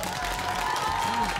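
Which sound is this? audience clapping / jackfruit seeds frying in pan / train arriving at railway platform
audience clapping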